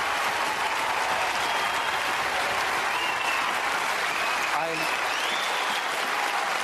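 A large political rally crowd cheers and applauds for a senator, a dense, loud roar of clapping and whoops sustained throughout, with voices mixed into the din.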